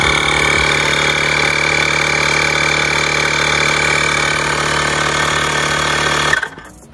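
A portable bike tyre inflator runs continuously with a steady, buzzy mechanical drone, close and loud, then cuts off abruptly near the end.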